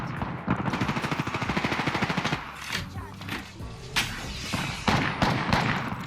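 Gunfire in the battle royale shooter Apex Legends: a steady rapid automatic burst for about two seconds, followed by scattered single shots and impacts of varying loudness, some near and some distant, with brief voices mixed in.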